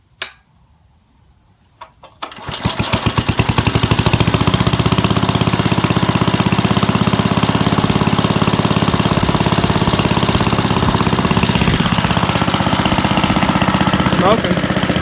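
A 1953 Toro Whirlwind lawn mower's small engine, sitting for 50 years, catches after a couple of sputters and settles into a loud, steady, rapid-firing run that hammers on close by without a break.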